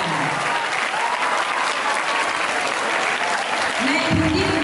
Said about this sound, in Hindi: अगर सहमत है तो जोर से तालियां बजा दें